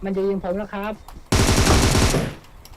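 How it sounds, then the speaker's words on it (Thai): Rapid automatic gunfire erupts in a PUBG Mobile match, a loud, dense burst of shots lasting about a second, just after someone speaks briefly. "มันจะยิงผมแล้วครับ"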